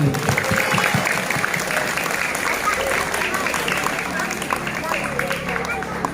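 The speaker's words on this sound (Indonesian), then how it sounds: "Tepuk tangan." An audience of young people claps at a morning gathering, a thick burst of applause that starts loud and gradually tapers, with some murmuring voices mixed underneath.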